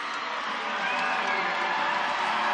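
Spectators at a basketball game raise a steady cheering roar while the Rams mascot launches T-shirts into the stands, the crowd noise swelling slightly partway through with talk mixed in.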